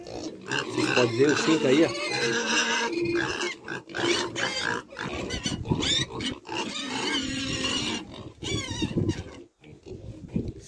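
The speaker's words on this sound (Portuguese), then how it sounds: "Aqui, gente, essa criação aqui, ó. Está sendo criada 5 leitãozinhos." Five young piglets in a pen grunt and squeal loudly and almost continuously at close range, while someone talks over them.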